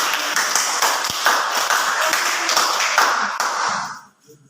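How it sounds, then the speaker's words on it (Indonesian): A small group claps steadily for a few seconds, close and moderately loud, before the applause trails off into quiet. "Silakan tepuk tangan buat"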